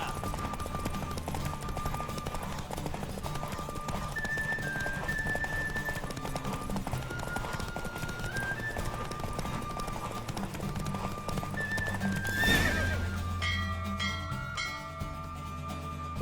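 Horse hooves clip-clop at a steady gallop in The Witcher 3, running continuously under a music score, with a brief rushing burst near the end and faint clinks.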